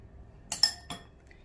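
Mashed potatoes being mixed with butter and milk in a bowl: three quick, bright clinks of a utensil against the bowl in close succession, otherwise quiet.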